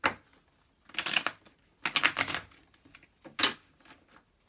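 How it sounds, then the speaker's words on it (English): Tarot cards are shuffled in close, crisp bursts of riffling and slapping, three or four short rustling runs separated by brief pauses, quiet and alone. "Let's get one more good shuffle."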